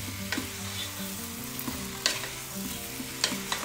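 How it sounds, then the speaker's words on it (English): Pork and chopped tomato stirred in a frying pan, a continuous close sizzle broken by sharp scraping strokes of the utensil at irregular intervals, with no voices over it. "I've been cooking this way like for about 15 minutes, stirring and stirring"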